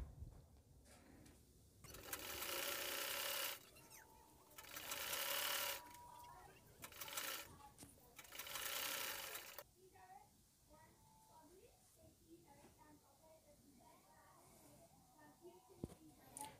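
A sewing machine stitches a pant hip seam in three loud, whirring bursts of a few seconds each, separated by brief pauses, followed by a quieter stretch of handling noises where a voice is faintly heard.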